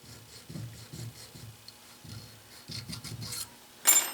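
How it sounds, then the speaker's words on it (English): Small needle file scrapes a burr out of metal in short, quiet back-and-forth rasping strokes, about a dozen in quick clusters, close up, with a brief brighter scrape at the end. "I have to use my very smallest, or one of my smallest needle files,"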